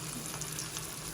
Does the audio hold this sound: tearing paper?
no